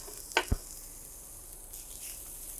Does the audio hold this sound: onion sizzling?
yes